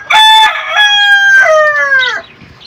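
A country rooster on a rooftop terrace gives one loud, close cock-a-doodle-doo in several drawn-out tonal segments, ending in a falling note, with no talking.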